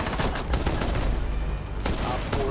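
Rapid SMG-12 machine-pistol fire in Rainbow Six Siege, a dense run of sharp automatic bursts with only a short break near the middle, loud and close throughout.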